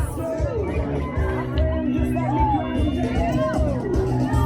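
A crowd of runners gathers at a 5K start line in Cleveland, with a busy hubbub of overlapping chatter and voices close by and people talking throughout.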